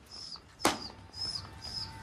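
A short burst of wing flaps from a pigeon taking off, sharp and close, with faint bird chirps and light background noise around it.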